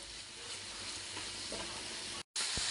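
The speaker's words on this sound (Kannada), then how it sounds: "ಶುಂಠಿ ಬೆಳ್ಳುಳ್ಳಿ ಪೇಸ್ಟ್ ಹಾಕೋತಾ ಇದ್ದೀನಿ ಒಂದೆರಡು ಸ್ಪೂನ್ ಹಾಕೋತೀನಿ ಇದೆಲ್ಲ ಸ್ವಲ್ಪ ಫ್ರೈ ಆಗಲಿ ಚೆನ್ನಾಗಿ ಬೇಯಬೇಕಿದು ಎಣ್ಣೆಲೆ ಬೇಯಲಿ" Ginger garlic paste fries in hot oil for a vegetable sabji, giving a steady, close sizzle throughout with a brief gap near the end and a few faint stirring scrapes.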